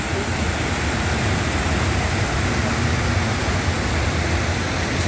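The Araks river rushes strongly with spray in the air, producing a dense, steady roar of water that fills the scene loudly and without a break.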